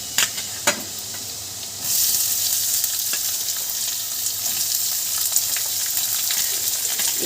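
Chopped onion drops into hot oil with garlic and chilli, and after a couple of sharp knocks the frying bursts into a loud, steady hiss that keeps going close by with light crackles and no voices.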